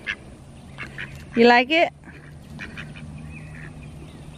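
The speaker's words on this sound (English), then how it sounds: "Silly ducks." Ducks quack in a backyard shelter, a few loud nasal calls bunched together near the middle with fainter ones around them, while a person speaks briefly nearby.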